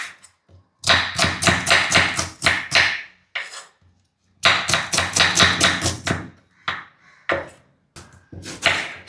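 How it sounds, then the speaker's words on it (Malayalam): Onion and tomato are chopped on a board, knife strokes falling in quick rhythmic bursts of about a dozen taps each, close and crisp with short pauses between runs. "ആദ്യം തന്നെ നമുക്ക് ഈ സവാളയും ടൊമാറ്റോ ഒക്കെ എങ്ങനെ വേണമെങ്കിലും അരിയാം"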